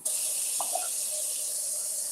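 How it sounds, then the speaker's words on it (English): Warm tap water runs steadily into a bowl in a kitchen, a soft, even hiss of filling with a faint splash or two near the start. "So I'm just getting some warm water in the bowl so you all can see."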